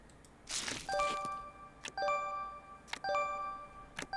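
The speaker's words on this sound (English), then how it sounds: "I'm gonna get this notification sound a lot" Bright chiming notification dings from the video game TCG Card Shop Simulator, four clear tonal pings spaced about a second apart, each ringing briefly over a quiet background after a short rustle.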